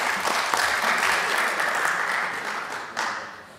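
Applause in the Indonesian parliament (DPR) fills the room, steady clapping from many people at close range for the whole stretch, with no talk over it.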